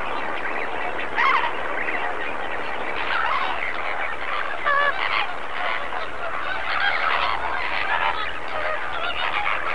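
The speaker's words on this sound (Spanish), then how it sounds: "Cada uno de estos flamingos ha desarrollado una forma especial de comunicarse" A large flamingo flock at Lake Bogoria keeps up a dense, continuous honking chatter, many overlapping goose-like calls forming a loud, steady wall of sound with no voices.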